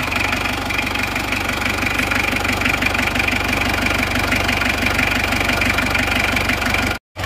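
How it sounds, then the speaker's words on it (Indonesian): An Isuzu Panther diesel engine idles steadily after its injection pump timing was adjusted, a close, even, rhythmic clatter running unbroken before a brief cut near the end. "Panther 23 setelah dirubah timing bospomnya itu suaranya menjadi seperti ini."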